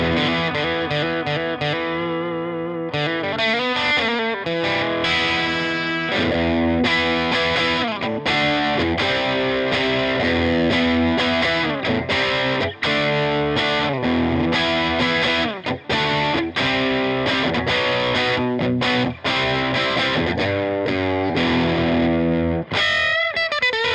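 Electric guitar on the bridge humbucker through a Chevtone Honeyburst overdrive pedal into a tube amp, playing a driven, continuous riff of crunchy chords and notes with a few brief pauses, loud and up front.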